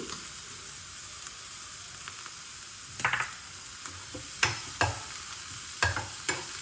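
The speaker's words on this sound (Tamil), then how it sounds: "ரொம்பவும் வதங்கணும் அவசியம் இல்லை, கொஞ்சமாக லேசாக வதங்கினா போகிறோம்" Green peas, green chili and ginger, added after carrot, sauté lightly in a pan with a steady broadband sizzle and a few louder scraping stirs toward the end; no one speaks.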